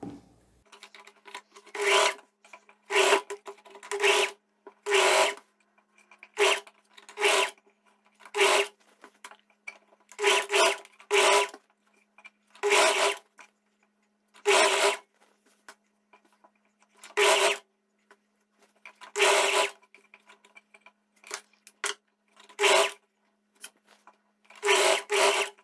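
A sewing machine stitches a viscose linen jumpsuit in many short, sharp bursts of rapid needle clatter with quiet gaps between them, loud and close, with no talking.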